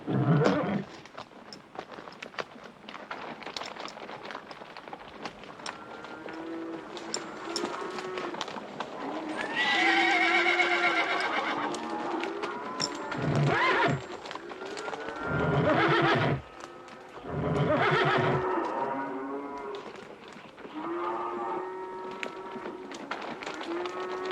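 Horses whinny and neigh repeatedly in an old Wild West scene, loud and close, with hooves clip-clopping and rustling movement between the calls and a voice briefly heard.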